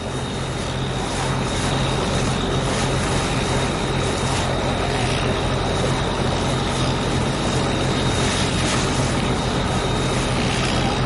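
A Vietnamese fishing boat carrying ice and anchovy catch has its engine droning loudly and steadily throughout, with constant wind-like broadband noise and no voices.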